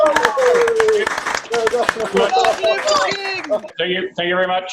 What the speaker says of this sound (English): If you can all unmute and everyone start to clap and cheer for His Majesty King Richard